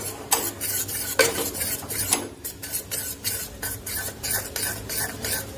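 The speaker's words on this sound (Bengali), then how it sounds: "দেখুন এইভাবে ভালোভাবে এটা ফেটিয়ে নিতে হবে।" Boondi batter being whisked in a bowl, a brisk rhythmic series of scraping strokes repeating roughly every half second, close and fairly loud, with no voices.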